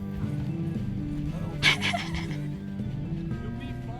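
A horse in a video game gives a short neigh partway through, rising briefly over background game music and faint hoof clip-clops.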